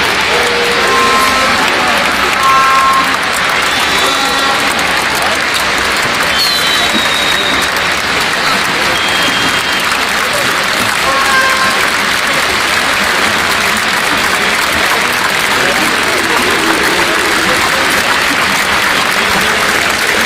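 A stadium crowd applauds in tribute during a halted football match, a long, steady roar of clapping from many hands, dense and even, with faint whistles and calls scattered through it.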